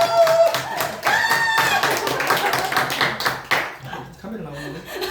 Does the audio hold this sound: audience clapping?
yes